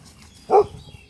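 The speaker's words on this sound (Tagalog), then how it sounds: "Are you barking again to Jackie Chan's dog?" A single short dog bark, fairly close, with quiet background hum before and after.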